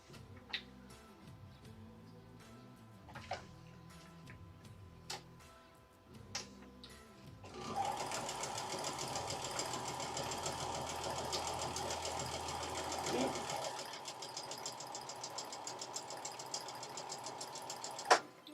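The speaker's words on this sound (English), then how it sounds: "So I have to keep tucking it under the presser foot there." A sewing machine stitches a quilt, starting with a few scattered ticks and then running in a continuous fast mechanical whir for several seconds before slowing to ticking again, faint and close.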